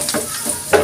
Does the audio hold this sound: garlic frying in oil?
yes